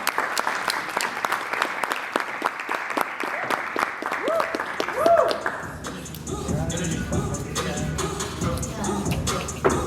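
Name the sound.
applause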